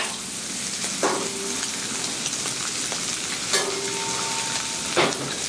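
Clam chowder ingredients with clam juice being stirred on a Blackstone griddle top, a low bubbling hiss with a few sharp scrapes and clinks of a utensil against metal.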